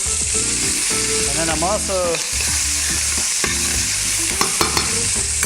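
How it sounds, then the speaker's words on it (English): Chopped onions sauté in oil in a hot pan with a steady, loud sizzle, stirred with scraping clicks and clatter. A voice speaks briefly over the frying. "So I'm gonna just give these onions a quick saute."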